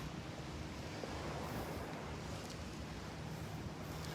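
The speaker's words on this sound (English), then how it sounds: "These little swells, these little waves coming in." Small waves roll in steadily at Delnor-Wiggins beach on a Friday morning, a soft continuous wash of surf blended with light wind noise, with no talking.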